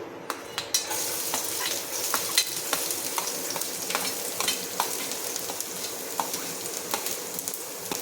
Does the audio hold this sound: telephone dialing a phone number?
no